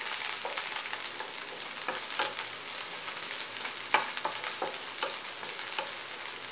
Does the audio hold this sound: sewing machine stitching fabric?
no